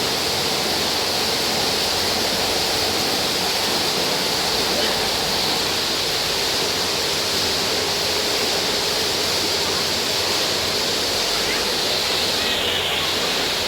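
A small fountain in the middle of a round fish-farm tank keeps churning the water, giving a constant, loud, splashing hiss like a waterfall that never lets up.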